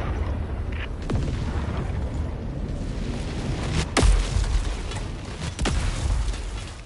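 A support weapon drop pod slams down in Helldivers, a deep booming impact near the middle, followed by a sharper crack, over constant rumbling battlefield noise with scattered distant blasts.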